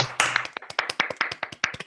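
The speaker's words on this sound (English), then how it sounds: "Round of applause." A few people clap after a talk at an academic gathering, producing sparse, distinct hand claps in an uneven rhythm, close and moderately loud.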